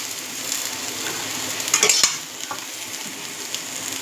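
Egg is scrambled and stirred in a frying pan, giving a faint steady sizzle with scraping strokes and a brief clatter near the middle, and no voices.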